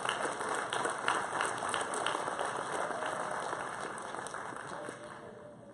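Sustained applause from an audience at a 2018 Claysburg-Kimmel varsity athletic awards ceremony, honoring the team; steady broadband clapping that gradually fades toward the end.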